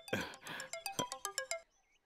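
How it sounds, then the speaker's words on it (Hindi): A mobile phone rings during an outgoing call, with a series of evenly spaced electronic ringback tones, clear and close, before falling quiet. "अबे फोन लगावत आनी ना।"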